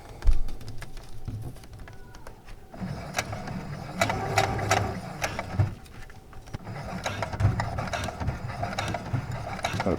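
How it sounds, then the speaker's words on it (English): A sewing machine stitches ripstop fabric for a zippered pouch kit, giving a steady, fairly quiet run of rapid mechanical clatter with short pauses and no voices. "now we're going to sew straight down."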